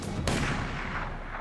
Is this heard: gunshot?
yes